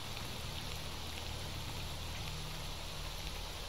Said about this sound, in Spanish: la lluvia en este juego es increíble